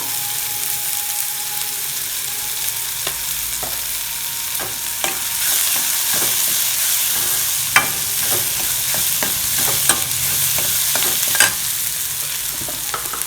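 Seasoning for bun dosa, with chana dal and asafoetida, sizzles and fries in a pan, a steady crackling hiss broken by scattered pops and spoon scrapes, close and continuous.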